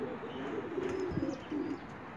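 Pigeons cooing in low, soft repeated murmurs, several birds together with faint chirps and a brief flutter of wings.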